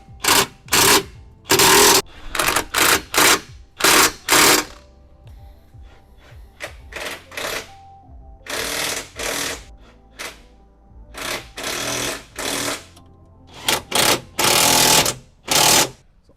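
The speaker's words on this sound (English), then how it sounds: "and then we'll tighten down the last of the bolts." A power tool tightening rear bumper bolts on a 2019-or-later Mercedes Sprinter van, with repeated loud bursts of buzzing impact rattle separated by short quiet pauses.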